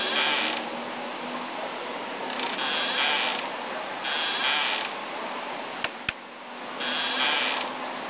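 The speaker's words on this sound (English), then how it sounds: "You closed my damn door." A door in the video game Five Nights at Freddy's creaks in long, repeated groans, with two sharp clicks near the end as it shuts, set against a low steady hum.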